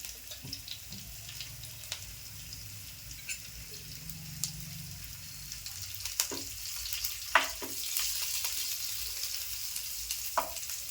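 Steady oil sizzle in a pan as finely chopped green chillies fry, with occasional clinks and stirring scrapes, close by and moderate, the frying growing slightly louder toward the end.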